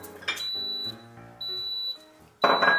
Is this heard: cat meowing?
no